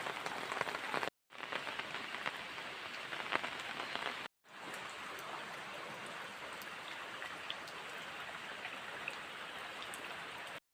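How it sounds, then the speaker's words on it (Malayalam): Steady monsoon rain pours down on a farm, a dense continuous hiss of drops hitting surfaces, broken by two brief silent gaps, with no voices. "ഇവിടെയും മഴക്കാലം തുടങ്ങി"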